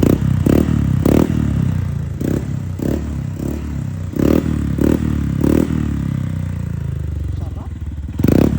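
A Honda ADV 150 scooter fitted with a Kvin exhaust pipe idles at low RPM, a loud, close, steady throaty rumble with rhythmic pulses and a few blips.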